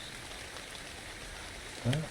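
Rain falling in the Sanctuary map of the game Ark, a steady soft hiss throughout with a brief louder thump near the end.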